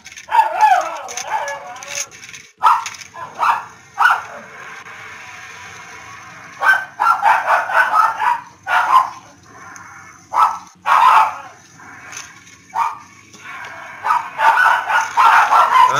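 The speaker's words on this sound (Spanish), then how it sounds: "Lo siento por los perros, pero realmente molestan mucho." Dogs in the video game Singularity bark, yip and whimper repeatedly in busy, loud bursts with short pauses over about sixteen seconds, with a voice occasionally mixed in.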